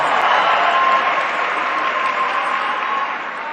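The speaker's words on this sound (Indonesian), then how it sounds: "Tepuk tangan untuk para pejuang reformasi kita." Dense clapping from a large crowd, steady and loud, fading slightly toward the end.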